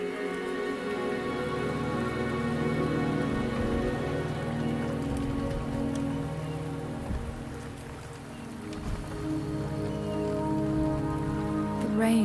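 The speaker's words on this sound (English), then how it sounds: "The rain is subsiding, and the sky will soon clear." Steady rain pours in the video game Wuthering Waves, a dense even hiss of drops on surfaces under a soft sustained musical drone, with no voices.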